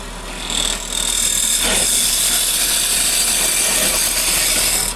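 A wood lathe spins steadily while a bowl gouge cuts into the turning wood, a loud, continuous whirring hiss with a brief scraping change as the tool bites, heard close up with no voices.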